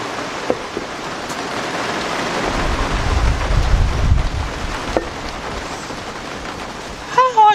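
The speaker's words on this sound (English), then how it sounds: "this rain is bothering the mess out of me" Steady rain falls outdoors while someone works on a Honda engine cylinder head, a continuous close hiss with a low rumble swelling midway and a brief voice near the end.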